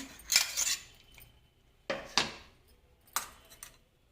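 A metal spoon scrapes and knocks against a mixer jar while clearing out carrot paste, three separate bursts of clinking and scraping with quiet gaps between.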